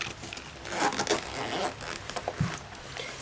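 The zipper on a pencil case's first pocket is pulled open in a series of close, rasping zips of uneven length.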